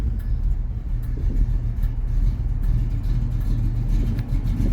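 A 1965 Pontiac GTO convertible's V8 with Flowmaster exhaust churns and idles steadily at close range, its deep, rumbling low exhaust burble pulsing throughout without any talk.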